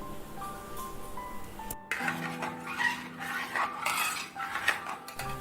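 A spoon scrapes and clinks against a pot while rice and coconut milk are stirred for Thrissur-style vishukkatta. It starts with a loud clank, then goes on as a steady close-up scraping and clinking.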